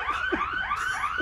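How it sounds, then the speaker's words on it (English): A house alarm goes off, a loud, close electronic siren sweeping up and down in quick repeated warbles without pause. "This is his house alarm."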